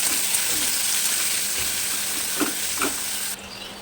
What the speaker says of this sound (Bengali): তেলের মধ্যে দিয়ে দেবো পেঁয়াজ কুচি আর কাঁচা মরিচ কুচি দিয়ে এবার পেঁয়াজটাকে ভেজে নেবো